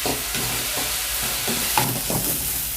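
Onions with salt sautéing in a pan over medium heat for Andhra-style Guntur chicken, a steady close sizzle broken by several scraping stirs of a spoon, with no voices.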